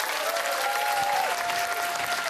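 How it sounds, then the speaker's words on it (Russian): A comedy show audience applauds steadily and densely throughout, with a faint whistle-like tone sliding beneath the clapping. "Опять же, нужны ваши аплодисменты."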